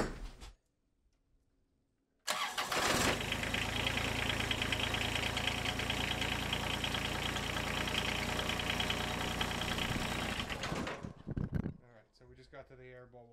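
A John Deere X748 lawn tractor engine, back running after failing, bursts into life after a quiet pause and runs loudly and steadily for several seconds before cutting out, with a person talking briefly afterward.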